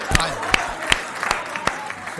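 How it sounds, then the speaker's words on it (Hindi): At a Hindi poetry gathering, an audience welcomes a poet with sparse clapping, a handful of distinct sharp claps spaced roughly evenly over a couple of seconds above a faint room murmur. "जोरदार तालियां बजाकर अजीत तोमर को आमंत्रित करिए।"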